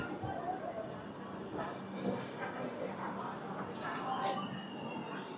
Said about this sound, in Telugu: మన ట్రైన్ అయితే వచ్చిందనమాట.